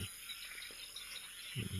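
At night beside a house in a Thai village, frogs keep up a steady, dense chorus of calls in the distance, with a low voice briefly heard near the end.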